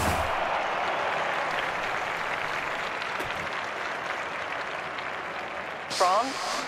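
A stadium crowd applauds at the London 2012 Olympics athletics events in a video game, a steady wash of clapping and cheering that holds throughout, with a brief sharp squeal near the end.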